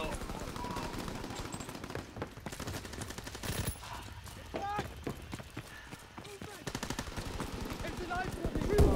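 An M1914 custom gun fires in Call of Duty WWII during a Team Deathmatch round on Aachen, a dense rattle of rapid shots with footsteps and other game noise, while people talk over it.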